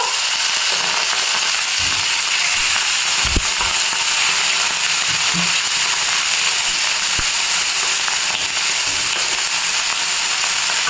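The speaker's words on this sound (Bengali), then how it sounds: "আগে থেকে লবণ হলুদ মেখে রাখা মাছগুলো কড়াইয়ে দিয়ে দিব" Hilsa fish pieces coated in salt and turmeric fry in hot oil in a wok, producing a loud, steady hiss of oil with scattered crackles and sharp pops.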